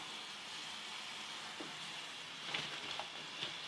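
Potato chips frying in hot oil give a faint, steady sizzle and hiss, with a few soft pops and stirring bumps near the end, and no one talks.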